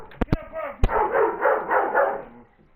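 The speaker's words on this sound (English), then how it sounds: "what you gotta bark all the time for?" A pet dog barks in a few sharp, loud bursts close by, then gives a longer whining, yowling vocalization that trails off.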